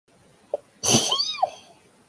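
One sharp sneeze bursts out close and loud after a faint breath, trailing off into a brief voiced tail, indoors and otherwise quiet.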